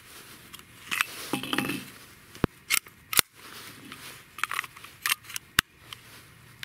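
A HiPoint C9 pistol's trigger is pulled repeatedly, giving sharp, close mechanical clicks and snaps at irregular intervals with faint scraping between them.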